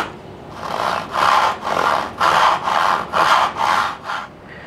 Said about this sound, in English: I'm just gonna cut this back one by hand